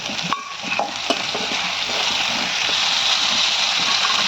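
Onions sauté in a pan for a dried fish fry, with a few spoon scrapes and clicks at the start that give way to a steady, fairly loud hissing sizzle.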